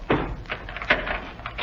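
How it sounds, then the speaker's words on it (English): A steel door creaks and thuds open in an old radio drama, a few muffled clunks and scrapes spaced over under two seconds, close and fairly quiet with no talk. "Ivan, open the door."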